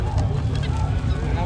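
Chukar partridges kept as poultry at a sugarcane fair give loud, continuous honking, goose-like calls that fill the scene, with crowd voices mixed underneath.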